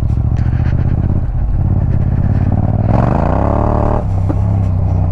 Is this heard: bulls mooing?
no